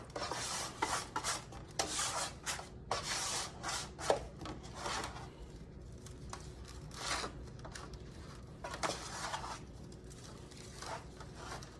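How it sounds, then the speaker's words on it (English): Bare hands rubbing leftover seasoning into pulled pork, making soft repeated rustling and scraping strokes in uneven bursts, close but fairly quiet, with no talk. "Take some of that leftover seasoning and run your fingers through there."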